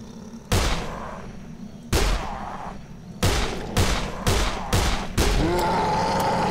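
Gunfire from the zombie game Dead Island comes as five or six loud, sharp bursts spaced about a second apart, each with a ringing tail, up close and with no talking.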